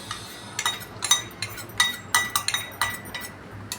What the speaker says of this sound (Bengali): এখন এই বেসনটা আমি এই দইয়ের মধ্যে মিশিয়ে দেবো